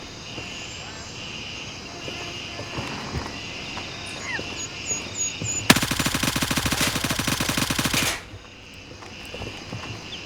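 Automatic gunfire in the military shooter Gray Zone Warfare: a loud, rapid two-second burst of shots cuts through quiet outdoor ambience with birdsong, and a voice talks briefly.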